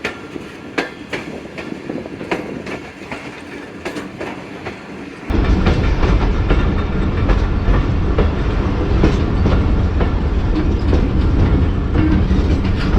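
The 148 Down Mianwali Express enters the Kundian junction yard with rhythmic clickety-clack over rail joints, which suddenly swells into a loud, dense roar of wheels and carriage noise.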